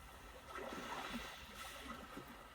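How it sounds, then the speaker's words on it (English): Soft, steady wash of calm sea waves from the built-in nature sound setting of a 2020 Hyundai Sonata Limited, a faint continuous surge and hiss playing quietly inside the car. "calm sea waves"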